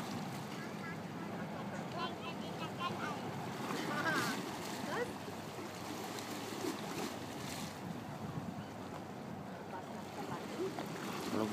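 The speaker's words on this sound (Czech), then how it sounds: "A vlna se blíží. Vlna se blíží. Jako na moři." Small waves roll in on the Danube river after a passing boat, making a continuous washing and lapping sound. Wind buffets the microphone throughout, and the waves swell briefly before settling back to a steady surge.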